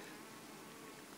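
Honey bees buzz steadily around hives at an apiary in a close, continuous, soft drone with no voices.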